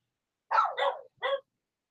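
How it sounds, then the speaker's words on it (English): Dogs bark at home in three quick, sharp barks, the first two back to back and the third after a short pause, loud and close with silence around them. "I'm sorry about the dogs."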